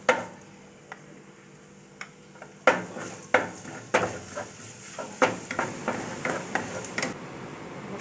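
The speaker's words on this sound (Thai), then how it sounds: "น้ำมันเริ่มร้อนก็ตามด้วยกระเทียมนะคะ" Garlic fries in hot oil in a pan with a soft, steady sizzle, broken by sharp clicks and scrapes of a utensil against the pan that turn more frequent in the second half.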